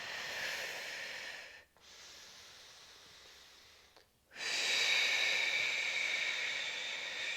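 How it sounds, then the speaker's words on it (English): Breathing during a pregnancy yoga session while rocking backwards and forwards: a steady breathy hiss that stops briefly twice, then resumes as a louder, fuller exhale through the mouth, close and alone with no talk. "Inhale through the nose, exhale through the mouth."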